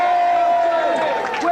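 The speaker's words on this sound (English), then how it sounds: "Give a big cheer" A crowd cheers for the winning team at a games awards event, a sustained roar of voices with whoops and a rising shout near the end.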